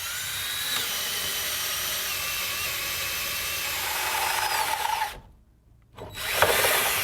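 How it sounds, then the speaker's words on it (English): Power drill boring up through a wall's top plate into the ceiling, a steady loud whine with a rising pitch under load, cutting out abruptly near the end before a brief burst resumes. "we're going to sneak the drill right in through here and drill to the other side to get into the ceiling"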